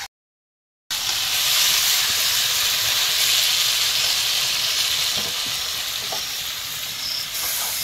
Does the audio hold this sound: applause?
no